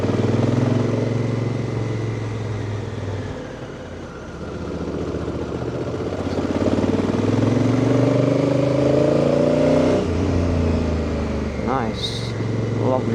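A Honda Africa Twin CRF1000 DCT motorcycle engine drones loudly and steadily on a city ride, dipping briefly then rising as it accelerates, with wind rush throughout.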